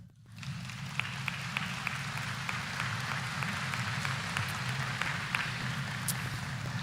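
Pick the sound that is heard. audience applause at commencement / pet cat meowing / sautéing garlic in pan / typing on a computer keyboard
audience applause at commencement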